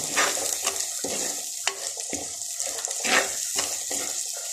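Chicken roast masala is stirred in a pan, a spoon scraping through the thick mixture in repeated rhythmic strokes over a steady sizzle, close and fairly loud with no voices.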